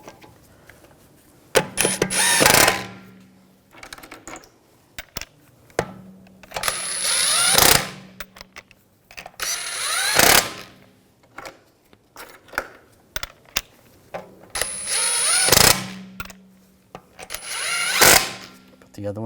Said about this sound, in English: Now I'll put the wheel on, get that lined up, get the lug stud started.